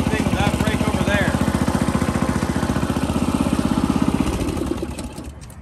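A Yard Max hydraulic dump track barrow's small engine runs at a steady, loud, rapid chugging pulse while the machine drives, close by, then drops off near the end; someone talks over it.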